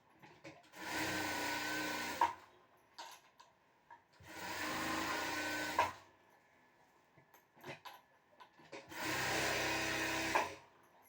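Sewing machine stitching along a saree in three steady bursts of about two seconds each, close and moderately loud, separated by quiet pauses with light fabric handling.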